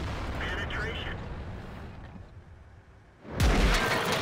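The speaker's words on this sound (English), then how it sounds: "So artillery just fired at you" Artillery rounds boom in a tank battle game: a loud, sharp blast lands near the end after a quieter stretch of rumbling battlefield noise, with earlier muffled activity.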